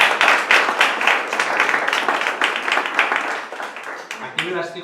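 An audience at a lecture claps steadily for several seconds, the applause dense and fairly close, before it thins out and a voice begins speaking at the end.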